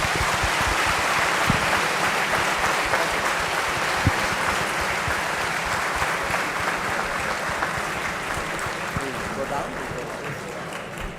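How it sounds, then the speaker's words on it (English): Sustained audience applause for Dr S. Jaishankar at the inauguration of Shaastra 2026, a dense wash of many hands clapping that stays steady and fairly loud for the whole stretch and tapers slightly near the end. "please join me in a warm round of applause for Dr."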